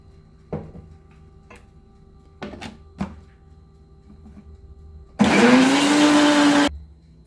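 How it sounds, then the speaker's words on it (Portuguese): A few scattered clicks and taps, then a blender mixing gluten-free, lactose-free cake batter roars loudly for about a second and a half before cutting off abruptly. "agora você vai manter o liquidificador ligado"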